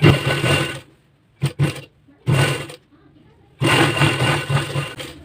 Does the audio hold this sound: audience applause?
no